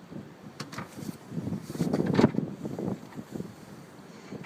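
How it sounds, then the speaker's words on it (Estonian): Waves slap and wash against a boat out at sea, irregular surges rising to a louder splash midway, with wind buffeting the microphone and no voices. "Nagunii tuleb kõva laine kohe."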